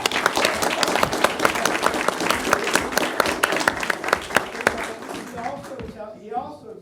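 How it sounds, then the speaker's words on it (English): Applause from a meeting audience for a caterer, dense steady clapping close by that thins and fades out in the last second. "Let's give him a round of applause."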